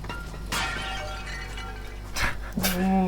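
An object shatters in Metal Gear Solid V, a sharp smash near the start followed by a second crash and short clinking debris, with a faint breathy sound underneath.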